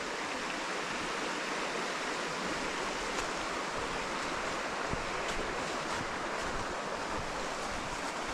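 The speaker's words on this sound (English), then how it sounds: "There's loads of trees there creating a bit of a dam where the stream is doing a little bit of an S-bend" A stream rushes past old mill ruins, curving through an S-bend where fallen trees form a small dam; a steady, broadband outdoor rush of flowing water continues alone throughout.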